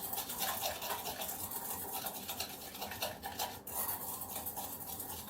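Nutmeg and cinnamon being stirred together in a small bowl with a spoon, a steady close scraping and clinking rhythm of utensil against dish running throughout with no talking.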